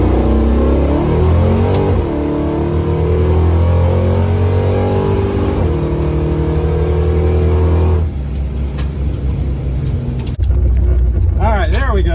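A hot rod drag car launches down the Onondaga dragstrip, its engine roaring hard through a long run, then bouncing off the rev limiter in rapid stutters near the end; loud and close.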